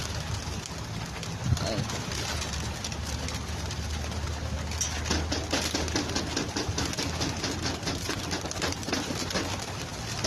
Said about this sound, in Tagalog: Ibon, ang dami.